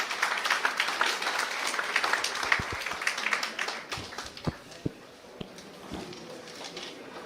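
An audience claps to welcome a speaker at an event honoring an RAS exam topper, a dense round that thins into scattered individual claps toward the end.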